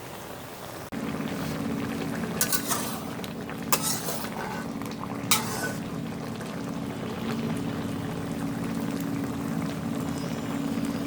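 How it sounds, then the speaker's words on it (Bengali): Tengra fish tipped into a cooking pot of boiled cabbage, with a few brief splashing pours and clinks over a steady bubbling simmer, no voices. "এরপর আমি মাছটা ঢেলে দিলাম সামান্য একটু"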